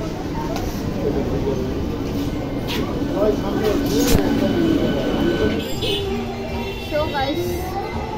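A train rumbles steadily with wheel and carriage noise at close range, loud throughout, while voices murmur underneath.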